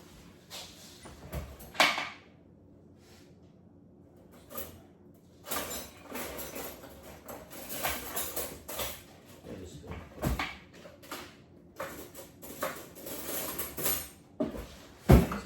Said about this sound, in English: So what I'm going to do, I'll get another spoon.